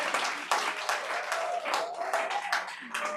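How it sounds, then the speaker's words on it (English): Applause from the audience at a county commission meeting, steady and moderately loud for about three seconds, with a faint voice underneath. "Just a brief reminder to hold our applause."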